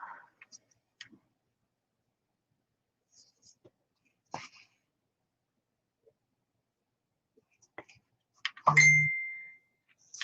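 A mobile phone notification chime rings out once, a short clear tone, near the end of mostly quiet moments with faint rustles and small ticks.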